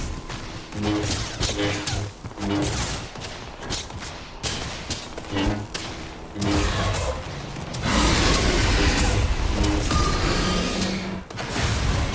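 Repeated gunfire in the sci-fi game Starfield, sharp bursts in an uneven rhythm over a dense wash of combat noise and music, loud and close, with a sustained roar building toward the end.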